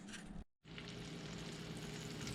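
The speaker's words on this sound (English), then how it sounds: "we got the fish breaded. They're frying." Breaded fish sizzles steadily in hot oil, a dense crackling hiss that briefly drops out before resuming, close and continuous.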